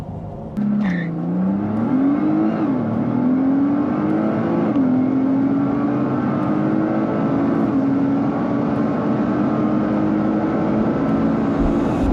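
Powerful sports cars, including a Mercedes GT63 Coupe, accelerate side by side in a drag race from a launch. A loud, sustained engine roar climbs steadily through the gears with brief shift dips and no talking.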